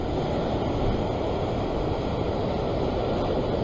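Sea waves wash at a rocky shore fishing spot in a continuous loud, low roar of surf that blends with wind buffeting the microphone and carries no speech.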